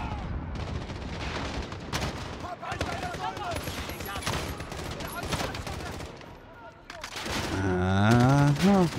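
Gunfire and explosions in Call of Duty Modern Warfare during a battle at the US embassy: rapid bursts of automatic shots and sharp cracks rattling throughout, with voices and rising tones building loudly toward the end.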